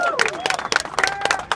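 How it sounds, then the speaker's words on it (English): Scattered applause and crowd noise at a boxing media event for a Pacquiao–Algieri fight in San Francisco, brief claps and murmurs, with tonal background sound running beneath. "Let's give a round of applause."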